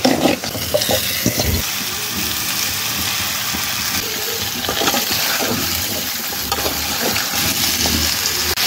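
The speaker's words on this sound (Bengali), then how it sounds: "এখন ভালো করে নেড়ে নিব।" Mango pickle with spices, salt and sugar is stirred and fried in a pan, giving a close, continuous sizzle broken by scraping and clattering from the spoon.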